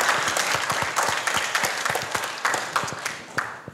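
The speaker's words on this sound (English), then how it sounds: "Just another round of applause to Dr." An audience applauds at a graduation gala, a dense burst of many hands clapping at close range that holds steady with sharp individual claps standing out.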